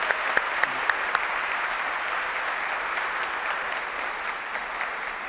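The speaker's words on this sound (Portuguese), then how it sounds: "Merece as nossas palmas aqui" An audience at a public debate on youth and adult education gives steady, sustained applause to welcome a guest, with a few sharp nearby claps at the start over the broad clapping of the crowd.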